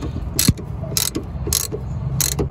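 A 3/8-drive ratchet with a 13 mm crow's foot loosening a brake line nut on a Ford E150 van, four quick evenly spaced bursts of clicking, close and fairly loud, with low rumbling noise between them.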